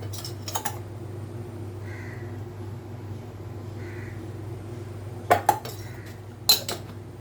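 A few sharp metallic clanks as a wok is set down and shifted on a stovetop, in a quiet room with a low background hum.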